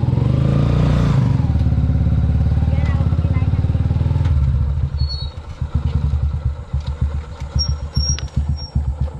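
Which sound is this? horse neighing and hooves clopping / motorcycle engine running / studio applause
motorcycle engine running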